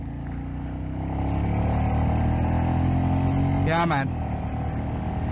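A Royal Enfield Meteor 350 motorcycle engine runs and revs with a steady thumping note, rising briefly in pitch near the end, while someone speaks over it.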